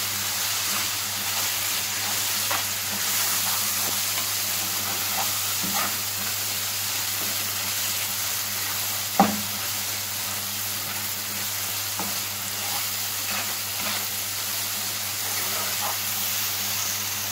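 Garam masala and other spices are stirred and fried in a pan with a steady hissing sizzle, light scraping strokes and one sharp utensil knock midway.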